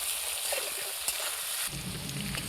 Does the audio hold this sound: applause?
no